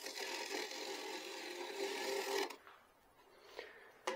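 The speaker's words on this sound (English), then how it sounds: "I'm gonna try to scrape this so it's a bit in." A steady scraping rasp of a tool against a spinning wooden bowl on a lathe, continuous for a couple of seconds before stopping, followed by a few faint knocks and taps.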